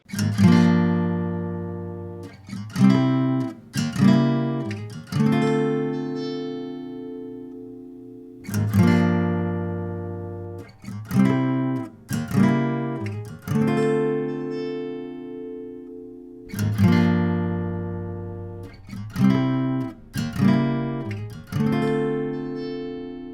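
Acoustic guitar chords strummed and left to ring out in repeated phrases, each hit decaying slowly, as captured by different microphones such as a 57 near the neck and a small-diaphragm mic close to the sound hole.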